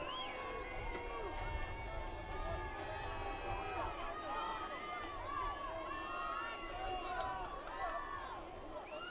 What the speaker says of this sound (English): You could hear the crowd encouraging the Spartans here.